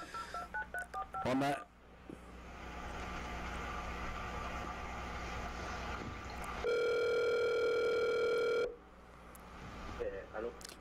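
During a phone call, a quick series of touch-tone keypad beeps sounds at the start, then a steady, loud dial tone holds for about two seconds before more dialing beeps. A person's voice is heard around the tones.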